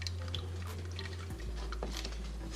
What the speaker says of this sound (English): You want to pour off this liquid to make a nice, lovely barbecue sauce.